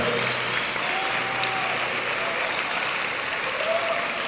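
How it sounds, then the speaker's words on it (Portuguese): Sustained applause from a large church congregation, steady clapping with no break for several seconds. "Vamos aplaudir Jesus, ele é digno."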